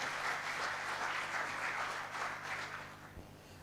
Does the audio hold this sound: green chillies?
no